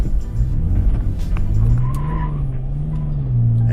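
A Toyota FJ Cruiser with a 4-liter V6 peels out, engine roaring as the tires squeal in a long, loud, wavering screech close by.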